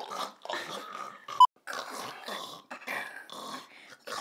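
Hounds growl and grumble in a string of rough, throaty bursts, close and fairly loud, with short pauses and one sharp yip between them.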